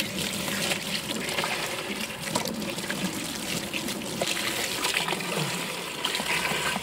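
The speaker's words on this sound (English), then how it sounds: "Bring it outside right by our hose. First, we just want to give it a good rinsing." A garden hose outdoors sprays water onto a plastic tray, giving a steady, rushing splash that stays loud and continuous throughout with no talking.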